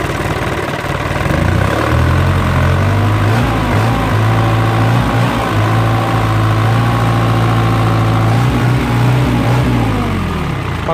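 An Isuzu 4HF1 diesel engine with a smoking breather and compression loss idles steadily and loudly up close, a deep rumbling drone with a constant beat and no speech.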